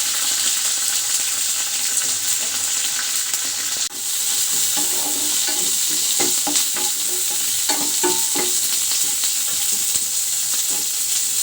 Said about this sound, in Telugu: ఇక్కడైతే పోపు వేసి ఉల్లిపాయ,